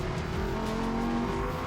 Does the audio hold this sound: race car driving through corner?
yes